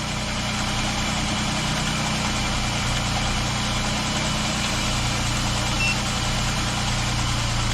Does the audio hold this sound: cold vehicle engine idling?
yes